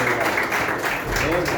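Church congregation clapping during a missionary week service, continuous applause mixed with voices and a preacher speaking over it.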